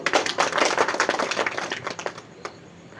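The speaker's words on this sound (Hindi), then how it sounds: "आप सभी की तालियां मैं चाहूंगा" An audience at a mushaira poetry gathering in Sakharkherda gives a brisk round of applause, a dense patter of many hands that swells, then tapers off to scattered claps and near quiet.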